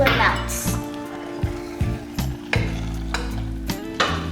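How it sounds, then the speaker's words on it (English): Brown sugar being stirred in a pot as it melts for Abi black rice: soft sizzling and wet scraping strokes at an uneven pace, close by, with a voice speaking over it. "So let's gradually stir it until it melts."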